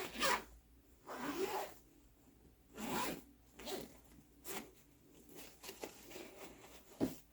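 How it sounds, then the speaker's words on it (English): A zipper runs closed on a packed fabric suitcase in a quiet room, several separate close, soft rasping pulls of a second or so each, spaced out with pauses between them. "So I'm going to zip this up."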